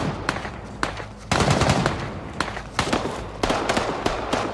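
Gunfire from the video game Gray Zone Warfare, in its newer work-in-progress audio build: loud, sharp shots in short irregular bursts, with crackling, echoing tails that ring between them. No talking.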